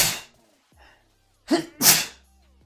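A person sneezes: a sharp, close burst, a brief quiet intake, then a double explosive sneeze, loud and alone with no talking over it.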